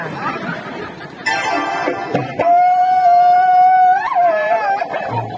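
A dog lets out a long, loud howl that rises and bends in pitch, preceded by brief chatter and yips.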